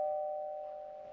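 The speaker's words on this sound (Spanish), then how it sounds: "¿Están tocando el timbre?" A doorbell gives a single sustained electronic tone that fades slowly, faint and alone.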